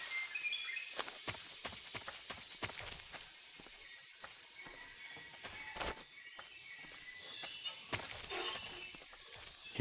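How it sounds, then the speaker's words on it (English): Rapid, scattered footsteps from the Metal Gear Solid 3 video game, sharp clicks and taps spread through the clip over a steady high hiss, moderately quiet with no voices. "Hearing so many footsteps, I'm kind of scared."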